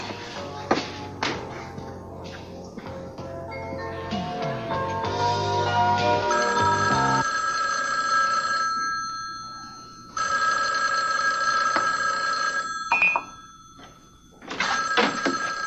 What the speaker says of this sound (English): Aren't you going to answer the phone, Keith?